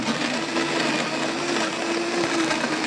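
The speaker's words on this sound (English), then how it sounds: "Here's a man running a blender on the radio." A blender running on ice, overproof rum and mango daiquiri mix, a steady, dense whir with a faint motor tone throughout, played over the radio with no talking.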